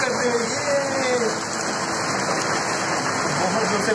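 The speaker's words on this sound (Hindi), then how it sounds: "बाहर बहुत जोर से बारिश हो रहा है" Heavy rain pours down outside in a steady, dense hiss with no breaks, loud and enveloping throughout, like a downpour drumming on surfaces close by.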